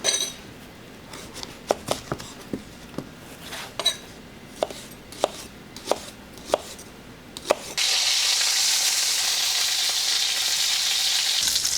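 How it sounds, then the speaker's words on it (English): A knife slices a quarter of a red onion on a cutting board, giving a series of sharp, evenly spaced cuts close by. These give way to a loud, steady hiss of frying in a pan. "we're going to take about 1/4 of a red onion into our slices"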